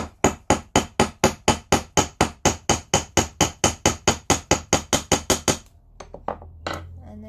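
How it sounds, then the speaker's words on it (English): A steel hammer's flat face taps a wire end to flatten it for handmade metal earrings, about twenty even, evenly spaced strikes close up, then a few softer clinks and a pause. "I'm going to use the flat surface of my hammer and I'm just going to hit it gently"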